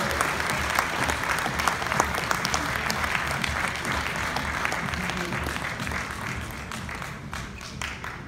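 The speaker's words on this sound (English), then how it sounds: "Another round of applause to our panel guests" Sustained audience applause in a hotel ballroom for panel guests and a moderator at a conference, dense steady clapping filling the room for several seconds, no talking over it.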